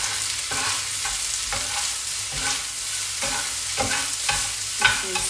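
Vietnamese rice noodles being stir-fried in a pan: rhythmic scraping strokes about twice a second over a constant loud sizzle, close and alone.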